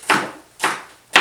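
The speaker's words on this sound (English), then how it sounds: "Chopping onions." Three firm knife chops through onions on a wooden board, evenly spaced about half a second apart, close and fairly loud.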